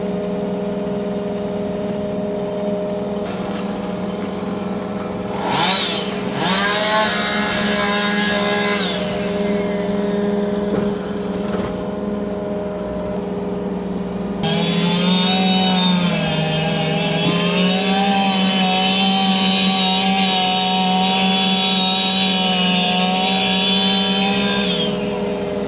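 A worker's chainsaw runs near an excavator on a construction site, a steady buzzing engine drone that revs up partway through and holds higher and louder to the end, with no talk.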